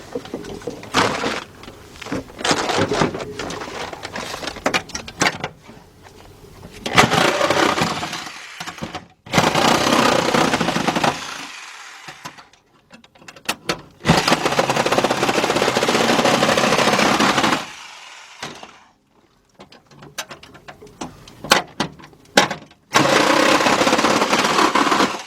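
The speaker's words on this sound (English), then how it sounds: "So let's get our sawzall." A reciprocating saw cuts through the steel floor pan of a Ford Mustang, loud harsh rasping bursts of several seconds each, separated by short pauses, close up with no talking.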